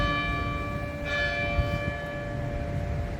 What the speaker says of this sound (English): There we are, near the 3 o'clock bell.